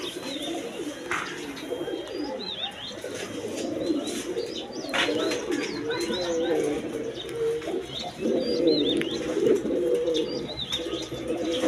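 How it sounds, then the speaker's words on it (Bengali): Several pigeons of various breeds, including blue shatting, jharna shatting, German beauty and Lahori, coo steadily and close, with soft chirps and occasional wing flaps in a busy bird-market setting. "বিভিন্ন বিটের কবুতর আছে, শাটিং, ঝর্ণা শাটিং, ব্লু শাটিং, হ্যাঁ এরকম সব ধরনের কবুতর আছে।"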